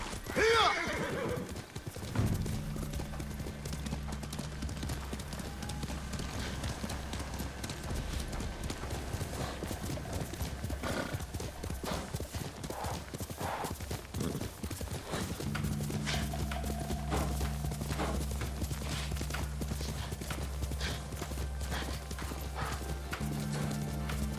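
Steady rhythmic hoofbeats of a galloping horse in the video game Ghost of Tsushima run throughout, with a horse whinnying near the start and a low engine-like drone underneath.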